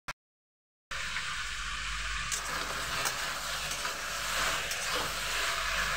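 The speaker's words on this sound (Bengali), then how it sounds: "একটু ভেজে নেব।" Ginger paste and spices sizzle steadily in hot oil in a pan, a continuous close frying hiss with faint stirring scrapes, starting after a brief click and silence.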